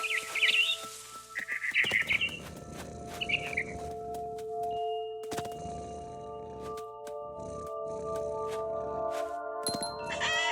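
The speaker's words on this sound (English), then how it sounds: "Then I heard chirping outside my window. It was a barn swallow going back to her nest." A barn swallow chirps in the video game What Remains of Edith Finch, a few short bright chirps at the start, followed by clanging game sound effects and sustained tonal music with no speech.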